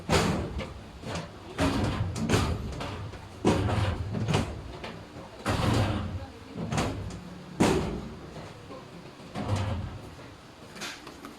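Metal ball-bearing drawer slides on a two-tier lateral filing cabinet being fitted and worked: repeated clattering metal knocks and sliding runs every second or two, close and loud, with occasional talk in between.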